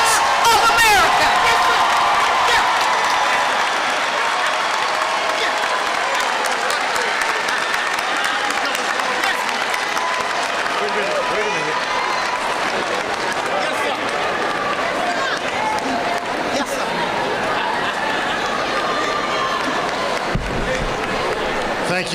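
Sustained, loud applause from a large audience at a university commencement ceremony, dense and steady throughout with scattered cheers and voices mixed in.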